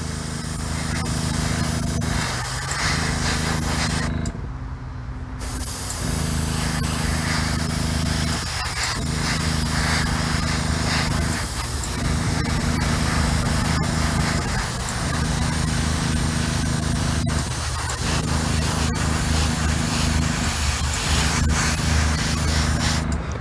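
A paint spray gun at 20 psi lays a light tack coat on a custom Firebird, a steady loud hiss in long passes broken by short regular pauses.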